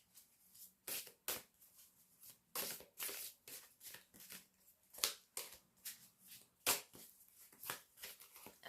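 Tarot cards are shuffled by hand in quick, dry riffling bursts, a dozen or so bright crisp flurries separated by short pauses, close and fairly quiet, with no talking.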